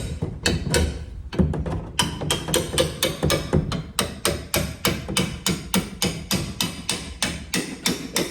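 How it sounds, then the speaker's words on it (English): Big hammer pounding on a 2005 Silverado Z71 during lowering work, a steady series of loud metallic blows about two per second, close and unbroken. "Just take my big hammer."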